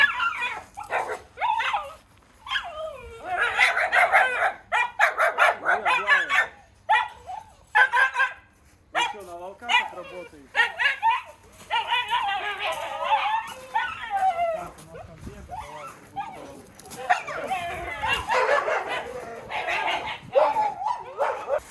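Several puppies bark, yip and whimper in repeated bursts, close by, while a person talks briefly between them.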